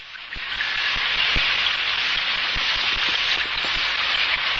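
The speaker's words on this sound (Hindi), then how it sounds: "बारिश हो रही है।" Steady rain falls outside, a dense even hiss with scattered heavier drop taps, no voices.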